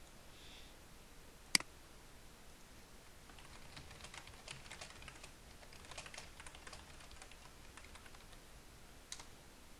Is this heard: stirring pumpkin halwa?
no